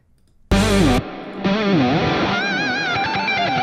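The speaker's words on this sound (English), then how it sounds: "Every time I hold a note, I'm going to add more delay." Distorted electric guitar plays a bending, sustained lead line with echoing repeats trailing each held note, loud and upfront, no voices.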